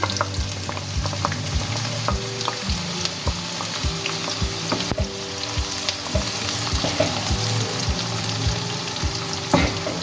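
A medium-sized onion frying in half a cup of hot oil for dhaba-style chicken keema, a strong, steady sizzle close up, with stirring scrapes and light clinks throughout.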